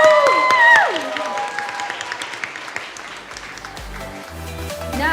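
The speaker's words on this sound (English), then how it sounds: "So let's give a big round of applause to our mentors," Audience applause at a live family festival, a burst of clapping following a fading musical sting, spread across the room and tapering off with a few scattered voices.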